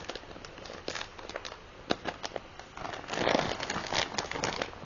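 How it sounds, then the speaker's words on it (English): Crinkling and rustling of plastic as a bag is handled and pulled open, soft scattered crackles growing busier toward the end. "How do you open a plastic bag?"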